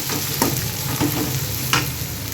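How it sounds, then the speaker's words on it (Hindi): Onions sizzle loudly and steadily in hot oil with cumin seeds in a home kitchen, broken by a few scraping stirs of the spoon, with no talking. "अब मैं प्याज को फ्राई कर ले रही हूँ"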